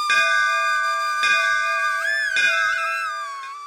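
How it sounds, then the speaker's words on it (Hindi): A small metal prayer bell in a home temple is struck three times, each ring sustaining and shimmering with a bright, lingering tone before fading. "घंटी की टन से वो वेद ध्वनि मानी जाती है।"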